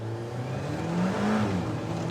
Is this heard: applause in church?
no